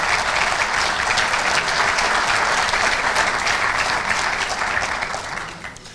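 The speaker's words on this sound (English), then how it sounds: "please give a warm round of applause" Sustained audience applause at a UAW judicial award tribute, greeting the president of the Detroit NAACP chapter. It is a dense, steady clapping from a full crowd that holds evenly and then thins out near the end.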